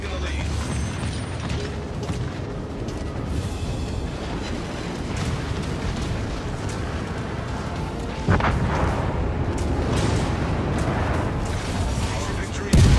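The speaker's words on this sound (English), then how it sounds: "Enemy destroyer blown up." An enemy destroyer blowing up in the World of Warships naval game, heard as dense, continuous booming and mechanical rumbling with heavy gunfire, a sharper burst partway through and under a voice.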